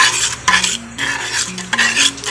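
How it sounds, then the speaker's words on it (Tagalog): A spoon scrapes and swirls around a pot of tomato sauce for homemade fishballs in repeated circular strokes, with soft clinks against the metal and a faint bubbling sizzle underneath. "Halo-haloin natin habang di pa kumukulo."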